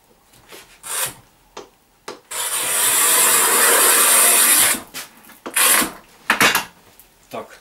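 A Bihui large-format tile cutter fitted with a modernized carriage scoring tile, a steady gritty scraping run of about two and a half seconds between scattered clicks and knocks of handling, close up.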